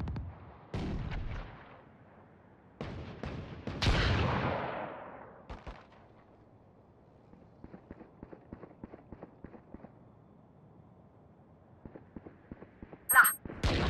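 A trap explodes in the shooter game Valorant with a loud burst and a decaying blast near the four-second mark, among scattered gunfire, footsteps and other sharp in-game hits.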